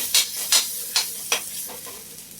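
Spices and grated ginger are mixed together for a methi paratha filling, with four or five short, close scraping strokes that fade toward the end.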